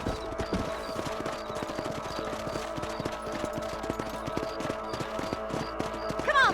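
Steady, rhythmic clip-clop of a ridden horse's hooves in Red Dead Redemption, evenly paced across the whole stretch over a low game music bed, with no voices.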